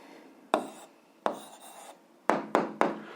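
Pen or chalk writing by hand during an 8th-grade algebra exercise, a few scratchy strokes in quick bursts with short pauses between, close and fairly quiet, with no talking.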